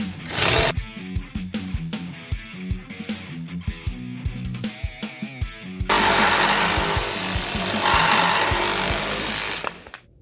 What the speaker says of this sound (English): So now you've had a chance to use a SawZall